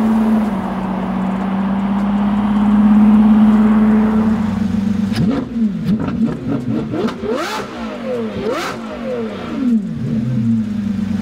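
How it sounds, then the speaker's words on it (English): A Lamborghini Revuelto with a Gintani F1 exhaust drones steadily, then accelerates through several quick upshifts, its loud, close engine note sweeping up and down with sharp exhaust bursts. "And when you get to higher revs, okay, yeah, it becomes loud."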